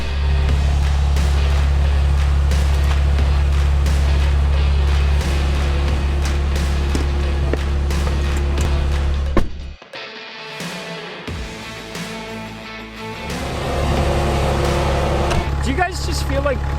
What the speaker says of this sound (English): You just pulled out of your driveway behind the wheel of Ghost.